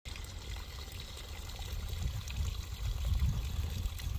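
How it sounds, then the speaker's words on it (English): Mountain spring water pours and trickles from a roadside outflow near Rock Creek Campground, a close, continuous splashing babble that swells slightly louder toward the end. "But yeah, it's mountain spring water."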